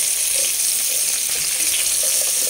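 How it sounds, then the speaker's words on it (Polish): Steady, hissing sizzle of vegetables frying in a pan, continuous and fairly close, with no voices. "wszystkie warzywka tutaj sobie smażę"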